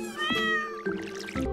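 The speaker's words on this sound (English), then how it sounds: "Might as well water the cat." A cat in Stardew Valley lets out a drawn-out, clear meow, followed by a couple of shorter calls close by. A faint trickle of watering sound sits underneath.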